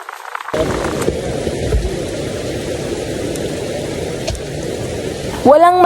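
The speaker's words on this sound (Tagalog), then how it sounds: "dahil medyo lumalakas na nga ang hangin at ulan" Heavy rain pours steadily with gusting wind near a waterfall in Zambales, Philippines, a broad constant hiss throughout, then a brief warbling electronic tone near the end.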